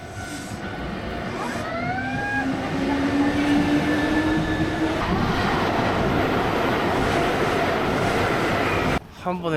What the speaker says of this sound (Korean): 한 열차 세개가 지나갔네